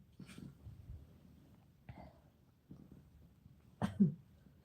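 A few short, throaty coughs and throat-clearing sounds spaced apart, close by, with a sharper burst near the end.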